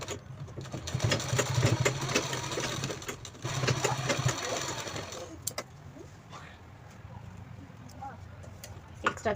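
A sewing machine stitches along both sides of a small cloth bag, its steady mechanical whir running in bursts that stop and start, with a quieter stretch near the end.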